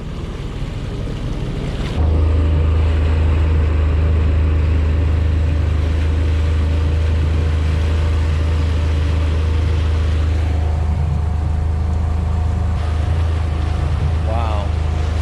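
A boat engine on a sea trial starts up after a couple of seconds and holds a loud, steady low drone near full throttle, with wind and water noise over it and a brief voice near the end.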